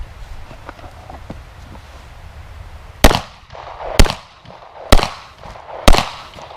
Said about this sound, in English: Now for our .40 we'll also use the Federal, but this is a 180 grain jacketed hollow point.